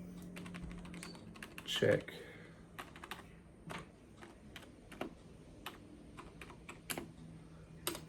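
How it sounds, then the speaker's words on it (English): Rapid clicking keystrokes tap on a computer keyboard in irregular bursts, close by, with a brief spoken word partway through. "Let me just pull up this keyboard and"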